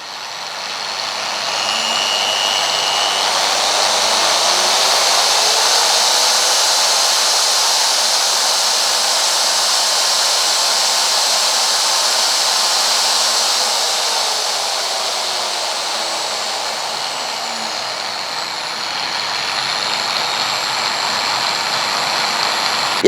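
A high-pitched DeWalt DWE4118 electric angle grinder, turned up to higher speed, whines steadily, loud and close, holding a constant drone before easing slightly near the end.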